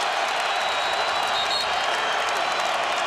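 College basketball arena crowd at a Syracuse versus Georgetown game, a dense, steady roar of cheering and applause filling the space, loud and continuous with a commentator's voice faintly under it.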